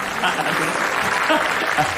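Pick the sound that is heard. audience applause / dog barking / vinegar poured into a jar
audience applause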